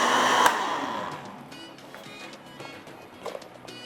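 An electric blender whirs loudly, churning salted lassi in a kitchen, then the motor winds down and continues as a softer steady hum with a few small clinks near the end.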